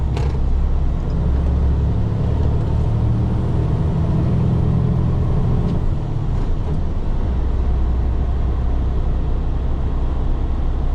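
A used, newer truck with a wet line and lowboy-capable suspension drives along, its engine giving a steady, loud low rumble throughout with no one talking.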